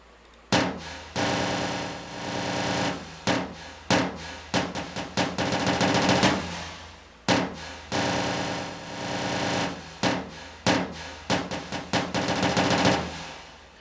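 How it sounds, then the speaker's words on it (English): A programmed marching tom pattern in FL Studio with a humanlike score plays dense rolls and accented strikes in repeated phrases, loud and steady throughout with no talking. "I have another tom march over here"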